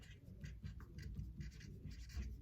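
Pen writing on paper, close and quiet, a run of short scratchy strokes in uneven rhythm.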